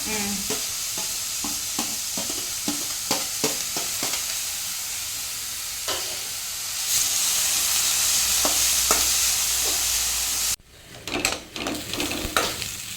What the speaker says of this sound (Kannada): ಇಲ್ಲಿ ನೀರುಳ್ಳಿ ಫ್ರೈ ಆಗ್ತಾ ಬಂತು